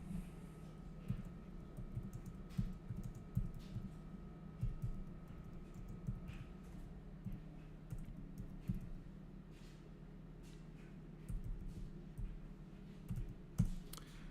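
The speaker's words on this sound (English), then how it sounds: "I'll type it." Keys tapping on a computer keyboard in a quiet room, a steady run of light clicks with brief pauses and a few louder strikes near the end, heard alone with no talking.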